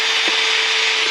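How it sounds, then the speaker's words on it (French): Hole being drilled in wood for a guitar rosette on a CNC machine, a steady close whine with a constant tone over a broad rough hiss, continuous and unbroken. "je n'irai pas percer jusqu'au bout pour pas risquer d'abîmer le lit de la CNC"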